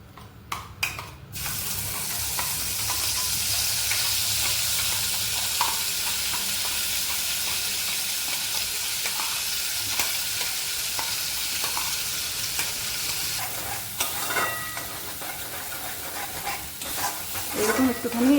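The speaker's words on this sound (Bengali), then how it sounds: "তেলটা গরম হয়ে গেছে, এবার আমি পেস্ট দিয়ে দিচ্ছি।" Spice paste for a vegetarian paneer dish hits hot oil, starting with a few clanks before a loud, broad, steady sizzle settles in. Near the end, faint stirring scrapes and a splash of water are heard up close.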